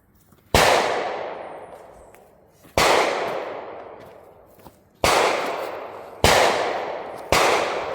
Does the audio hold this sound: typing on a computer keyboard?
no